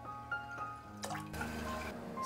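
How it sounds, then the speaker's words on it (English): Water pours into a pot for mung bean jelly noodles, first as a few drips, then as a steady trickling stream, close by and fairly quiet. "Then to a pot, add the remaining 4 cups plus a couple of spoons of water."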